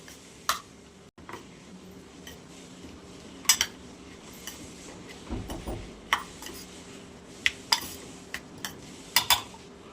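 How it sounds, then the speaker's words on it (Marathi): A spoon stirs spicy onion chutney in a pan, tapping and scraping the metal in scattered, irregular clicks over a low, steady background hum. "हे ना आता हलवून घेऊयात आपण."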